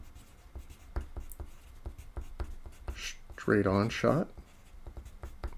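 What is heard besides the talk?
writing notes by hand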